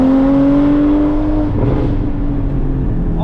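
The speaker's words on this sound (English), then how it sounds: "All the burbles, all the sound" A Porsche Cayman GT4 of the 981 generation with a 3.8 engine runs loudly and close, a steady low engine drone that eases off and breaks into rough, burbling exhaust.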